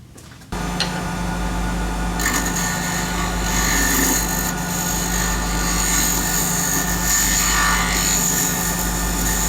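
Wood lathe spinning a finial blank while it is faced and given a slight tapered contour, a loud steady motor drone with rising and falling scraping tool noise throughout, no talking.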